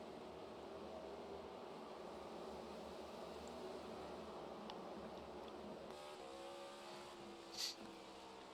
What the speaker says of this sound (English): He's throwing that race car to the corner, and he's just losing the back end.